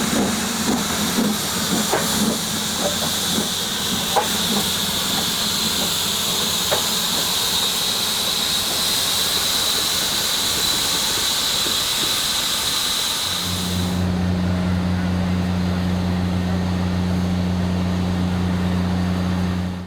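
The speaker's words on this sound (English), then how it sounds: "At the end of the line at Nantahala Township, the train stops briefly before heading back to Bryson." Great Smoky Mountains Railroad steam locomotive 1702 stands briefly at the end of the line at Nantahala Township, venting a loud, steady broadband hiss of steam that cuts off abruptly, leaving a low, even idling hum.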